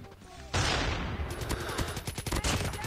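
A PKM machine gun fires in a video game: a loud, sustained burst of rapid shots opens abruptly, then continues as a rhythmic stream of reports close up.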